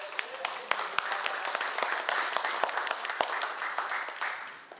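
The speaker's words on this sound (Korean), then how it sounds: "박수 소리 시원찮네." Scattered applause from an audience at a regional balanced-development forum, modest and fairly brief, a steady patter of clapping that fades toward the end.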